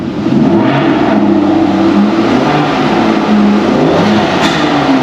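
An Aston Martin DB9 engine is revved hard in a car collection, a loud, close, continuous roar that swells and dips over several seconds, with no voices.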